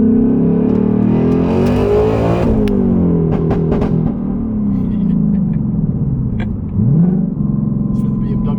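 A 2024 Mustang Dark Horse revs loudly up to redline in gear with the clutch in, a sustained engine roar with rising and falling pitch and crackling exhaust pops, with a voice talking over it.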